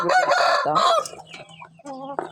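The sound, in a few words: chickens clucking while being fed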